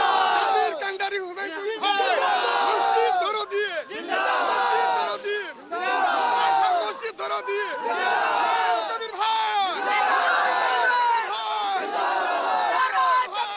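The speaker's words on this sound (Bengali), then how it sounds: "তারা কিন্তু স্লোগান দিচ্ছেন এবং তারা কিন্তু একেবারে এরা উচ্ছ্বাসিত" A large crowd chants and shouts slogans at the foundation-stone ceremony for the Babri Masjid, a loud, dense, continuous roar of many voices with rhythmic rises and short dips.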